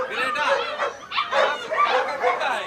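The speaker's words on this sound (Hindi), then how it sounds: "ये कुत्ता जो है पूरे 1 लाख रुपया का कुत्ता है।" Yips and barks from a pricey dog, a breed said to come from Nepal, at the Sonpur fair, coming in short bursts up close amid the crowd noise and the people talking.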